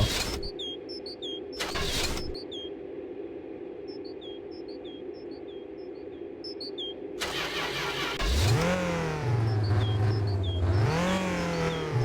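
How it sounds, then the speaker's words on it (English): A car engine in the game My Winter Car idles roughly, stalling at low revs, cuts out, then sputters and revs unevenly at low pitch, with small chirping sound effects scattered throughout. "It's stalling out at low revs, like it's just idling to death."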